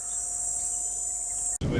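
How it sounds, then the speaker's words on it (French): Steady high-pitched cicada drone at night in Namibia, loud and continuous with a faint lower tone beneath, cut off abruptly near the end by a short burst of broadband noise. "Oh, puis il y a de ces cigales."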